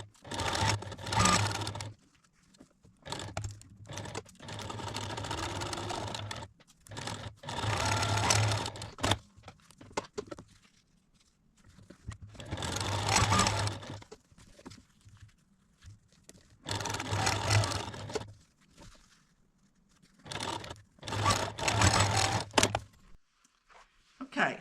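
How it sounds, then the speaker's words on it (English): A sewing machine runs in several bursts, stitching a quarter-inch seam on potholder fabric, its steady motor hum alternating with short pauses and occasional speech. "I'm going to take this over the machine and sew down 1/4 inch here"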